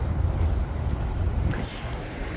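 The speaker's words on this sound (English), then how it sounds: "it's windy and I am sitting right here currently" Wind buffeting a microphone outdoors, a continuous low rumbling roar that stays loud and close throughout, with no voice over it.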